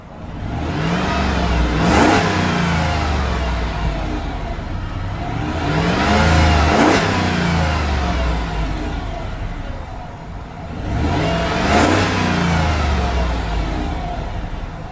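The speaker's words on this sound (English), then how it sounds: "Beautiful sounding engine." A 2010 Jeep Commander Limited's 5.7-liter engine revs up three times in slow succession, each rise climbing to a roar near its 4,000 RPM limiter and falling back to a steady idle between.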